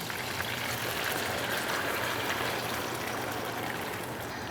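Gravy poured over Salisbury steak in a pan gives a steady, close, continuous liquid rush and trickle, even in loudness throughout with no talking.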